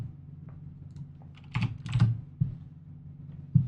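Keystrokes on a computer keyboard while entering text in a design tool, a few scattered taps with a cluster of quick presses in the middle, close and fairly quiet over a steady low hum.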